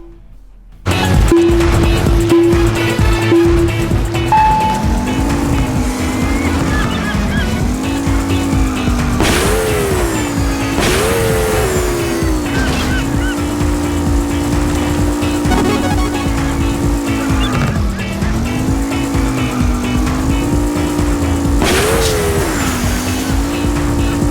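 Racing cars in the video game Blaze Rush roar with continuous engine drone and rising, falling revs, punctuated by tire squeals through turns, loud and steady throughout with no talking.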